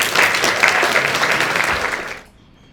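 Audience applause for a speaker at a 2023 eloquence contest, a dense burst of clapping from a crowd that holds steady for about two seconds, then cuts off abruptly into near silence.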